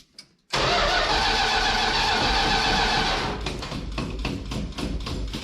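A Plymouth Fury, jacked up at the front on an incline, cranks and catches after a brief quiet moment, bursting into a loud, rough running engine that settles into a steady, slightly uneven idle.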